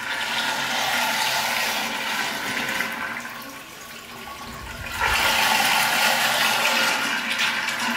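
A household toilet flushes with a strong rushing gush of water, then water runs steadily into the tank, the flow surging louder again near the end, with no talking.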